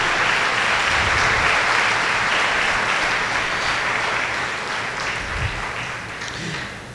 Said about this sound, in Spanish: Dale un fuerte aplauso a Dios en esta mañana